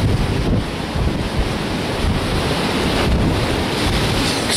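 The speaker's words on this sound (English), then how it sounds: "the waves are a bit more gentle here, as the beach is just to my right" Gentle ocean waves wash onto a beach under heavy wind buffeting the microphone, a continuous loud roaring hiss with no voices.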